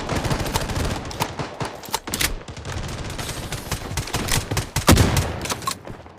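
Heavy gunfire in the shooter game Bloodstrike, dense bursts of rapid shots and explosive cracks crowding one another at close range, with no pauses.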